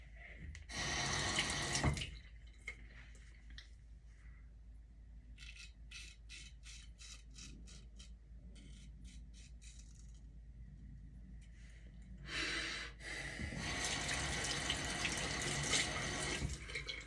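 Tap water gushes into a sink for a quick rinse during a straight razor shave, two loud bursts of running water at the start and end with quieter clicking and scraping between.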